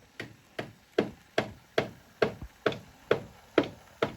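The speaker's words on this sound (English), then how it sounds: "You'll have to excuse the banging in the background." Toy hammers and tools banged by children indoors, about ten sharp, evenly spaced knocks roughly every half second, moderately loud with short ringing decays and no voices.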